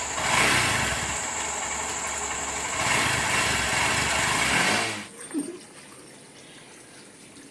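A Honda SP Shine motorcycle engine runs loudly and steadily with a buzzing, high-revving tone for about five seconds, then cuts off abruptly, leaving quiet background noise and a faint knock.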